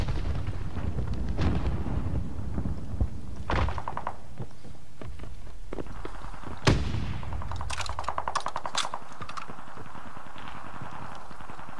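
Gunfire from other players in the shooter game Champion Hill, heard as scattered sharp shots and a rapid burst of automatic fire over steady game ambience.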